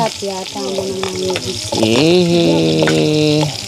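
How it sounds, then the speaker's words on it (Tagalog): Onion and garlic sautéing in a pan give off a steady, close sizzle and frying crackle, with tonal, voice-like sounds running over it throughout. "Yan, igisa na natin."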